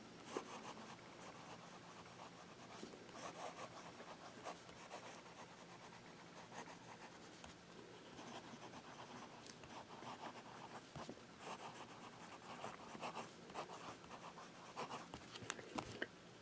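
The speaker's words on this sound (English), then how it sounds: "Alright, time for a little bit of writing." A fountain pen with a wet nib scratches and rubs across paper in soft, uneven strokes with small pauses between letters; faint and close, with no talking.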